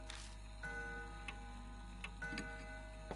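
A mansion clock in the game Death Mark ticks steadily, with sharp, evenly spaced clicks roughly every three-quarters of a second, faint and close over a low hum, with a soft ringing tone running between the ticks.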